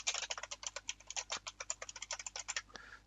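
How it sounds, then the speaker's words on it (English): Rapid, loud clacking of a computer keyboard being typed on, a dense stream of sharp keystrokes over about three seconds with a brief pause near the end, close and alone with no voices. "Sorry for the loud keyboard."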